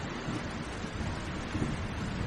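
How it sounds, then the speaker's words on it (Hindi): A heavy nighttime downpour from a Hindi children's cartoon, with dense rain and low rumbling wind running as a steady wash of noise at moderate level, with no one speaking. "रात भर तेज बारिश चलती रही।"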